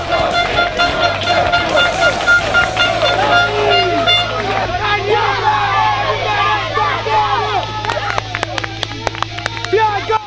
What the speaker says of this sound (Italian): E adesso si fanno sentire i tifosi.